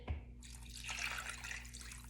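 Water runs steadily from a kitchen sink tap into a measuring vessel while bone broth is being made, a soft, even gush held at low volume throughout.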